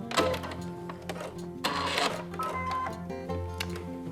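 A sewing machine runs in short close bursts to lock stitches on a fabric mask, a steady mechanical whir with rhythmic needle clatter, stopping and starting again.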